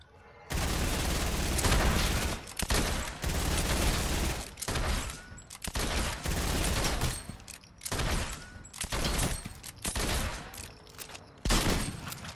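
Rapid bursts of gunfire in a Fortnite trios battle, loud and close, firing in long volleys broken by short pauses, with booming impacts mixed in.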